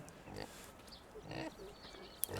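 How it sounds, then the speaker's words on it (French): Pigs grunting inside a barn in the farming game Farming Simulator 15: a few low, scattered grunts and snorts at moderate distance, with a brief sharp click near the end. "Là on entend un peu les cochons"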